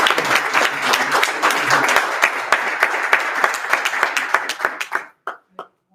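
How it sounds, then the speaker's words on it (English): Applause from a graduation audience, dense and sustained clapping that thins out near the end into a few scattered final claps. "So let's give him a hand clap."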